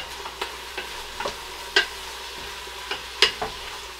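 Onions and herbs frying in a pot for a hearty fish chowder, heard as a soft, steady sizzle with intermittent sharper clinks and stirring scrapes, close and moderately quiet with no talking.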